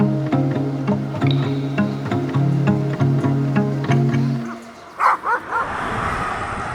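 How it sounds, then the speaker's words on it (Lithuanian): Dogs by a roadside in Northern Greece give a few short, close barks near the end, after a stretch of steady tonal sound. "O Dieve, čia dar šunis."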